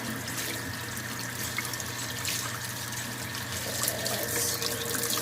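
Warm tap water runs steadily into a sink while tie-dyed fabric is rinsed, a constant close splashing rush with no speech.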